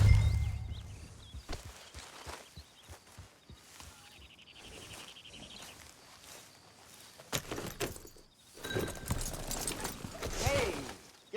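Horse hooves clip-clop in Red Dead Redemption 2, an unhurried walking rhythm of dull clops with tack jingling and footsteps, moderately close, mixed with ambient game sounds and brief voices.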